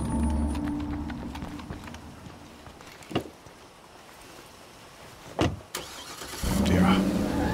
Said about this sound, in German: Schauen wir mal, ob das Auto uns noch ein paar Meter fährt.